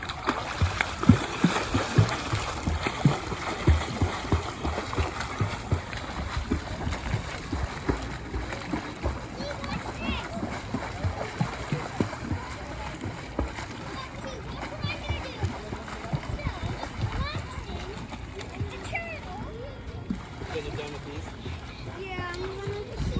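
Someone swims in a swimming pool with irregular splashes and sloshing water close by, while someone talks over the water sounds throughout.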